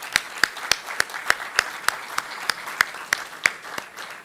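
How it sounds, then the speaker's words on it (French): Slow, evenly spaced claps, about a dozen sharp hand strikes in a steady rhythm over a faint background hum, with no voices. "Je voudrais vous demander de bien vouloir les applaudir"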